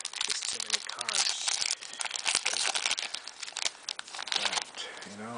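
Loud, close crinkling and tearing of wrappers as a 2014-15 Upper Deck MVP Hockey retail box is opened, with irregular bursts of plastic rustle and a person talking at intervals.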